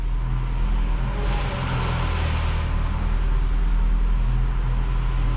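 A vintage 1968 BMW 1602 rolls out of a shop, its engine a low, steady rumble close by, swelling slightly as it moves.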